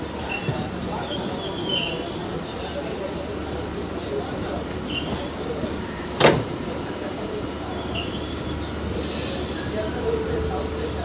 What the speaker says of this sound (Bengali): আরও কিছু লোকাল ট্রেন এসে থামলো